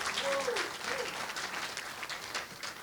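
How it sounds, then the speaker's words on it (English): A community gathering audience claps in dense, steady applause lasting about three seconds, with a voice briefly rising over the start before the clapping carries on alone. "They need a Patiala round of applause."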